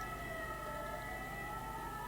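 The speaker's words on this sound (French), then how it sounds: "Il y a les sirènes qui hurlent, je sais pas ce que c'est." Sirens wail outdoors at a distance, a sustained tone slowly sliding in pitch over a constant background hum, with no other sound on top.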